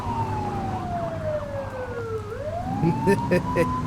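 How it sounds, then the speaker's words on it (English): A wailing police siren in the video game The Precinct sweeps up and down in pitch over engine rumble, then shifts into a rapid pulsing yelp near the end. "Get on their tail and flip the siren."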